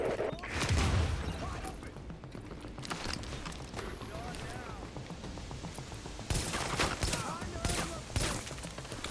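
Sniper rifle fire and other gunfire sound in the Dark Zone of the video game The Division, with dense crackling bursts and repeated shots mixed with game ambience throughout, fairly loud and continuous.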